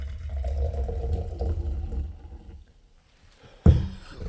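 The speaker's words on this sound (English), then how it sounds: "Pour a big old serving." A drink is poured into a glass, with a dense liquid gurgle and splash for about two seconds, then it tapers off to near silence before a sharp knock or clink near the end.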